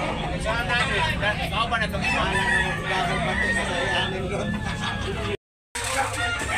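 Roosters at a cockfighting rooster market in Tabunok, Talisay, Cebu crow and cluck repeatedly over busy crowd babble and nearby talk, with a brief dropout near the end.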